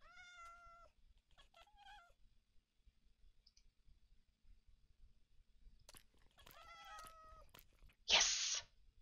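A tuxedo cat meows in a video game, with two short meow bursts near the start and another cluster of meows later, followed by a brief harsh burst near the end, all fairly faint with no talk.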